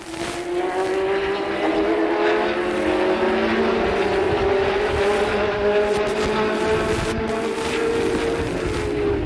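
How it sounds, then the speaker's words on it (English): Late model stock cars racing at Capital, a 1985 race, roar past loud and close in a continuous engine drone with rising and falling pitch as the pack speeds by, with no talk. "the 88 car of Tom Refter opens up a good margin over Holshausen, Sawinski, Seitz, and Brian Refter"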